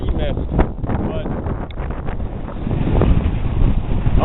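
Strong gusting wind buffets the microphone on a canyon hike near the sea, a loud, rough roar that swells and dips throughout without any speech.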